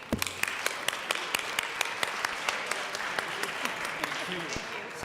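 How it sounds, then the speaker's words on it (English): Colorado House legislators applaud a health group on the chamber floor, with a loose patter of clapping across the room and a few sharp, close claps standing out at a steady pace. "if we could give them a round of applause for their work, I would greatly appreciate it"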